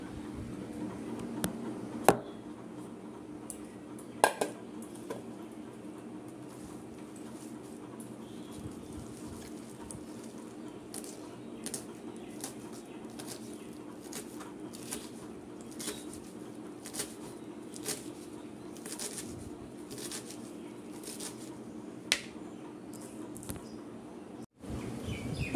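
Freshly washed leafy greens (saag) are chopped on a board in scattered, soft, close cuts and taps over a quiet room background.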